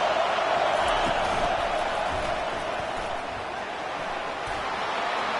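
Steady roar of a packed stadium crowd at a Penn State football game, a dense continuous wash of cheering with no distinct voices standing out.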